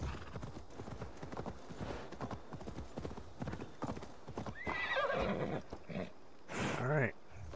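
A horse ridden as a mount in Assassin's Creed Valhalla, with steady clip-clop hoofbeats throughout and a loud whinny near the end, no talking over it.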